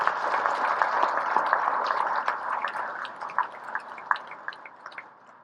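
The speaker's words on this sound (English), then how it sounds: "Let's give the participants and all of us a round of applause." A round of applause from participants at the closing ceremony of the Philippines–US Balikatan 2023 military exercise; dense sustained clapping that gradually thins into scattered individual claps toward the end, with no talking.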